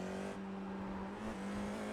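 FIA F4 single-seater race car at Fuji Speedway in a racing game, engine droning steadily at high revs as it powers out of a corner, a continuous buzzing note with a slight pitch shift.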